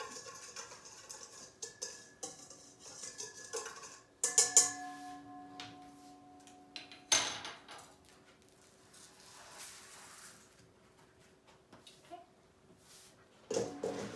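Brussels sprouts are tossed in olive oil with salt and pepper in a bowl, giving quiet, scattered clinks and scrapes of a utensil against the bowl, with a few sharper knocks between near-silent gaps.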